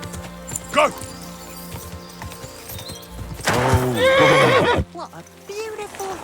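A horse in Kingdom Come: Deliverance II gives a loud, close whinny with hoof clip-clops around it. Voices talk before and over the neigh, and a short, softer snort follows.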